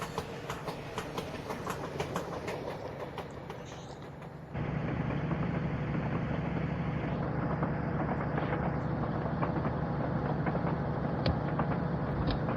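Steady in-cab rumble of a Class 58 diesel locomotive on a merry-go-round wagon train in Train Simulator, with a low engine drone and faint rhythmic clicking, growing louder and denser partway through.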